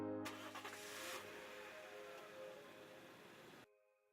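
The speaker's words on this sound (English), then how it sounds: "Reassuring engine noises filtered into the cabin" A car engine starts and settles into a steady idle in the visual novel Narcissu, a loud near crank that carries on for a few seconds before cutting off abruptly.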